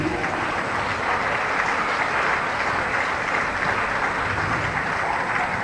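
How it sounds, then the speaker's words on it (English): Sustained, dense applause from a crowd at a dog agility competition welcoming the judge, an even wash of clapping with no pauses. "Can we give her a round of applause"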